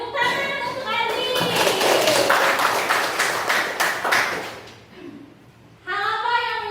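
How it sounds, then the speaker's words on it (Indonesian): Students in a classroom clap for a classmate, a dense burst of applause lasting a few seconds before it fades, with voices speaking before and after. "tepuk tangan untuk Adi."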